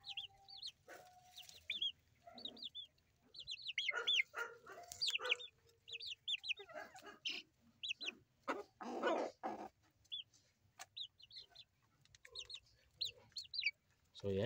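Silkie chickens in a coop cluck and chirp in short, scattered bursts at close range, with a low background hum and a few louder squawks mixed in.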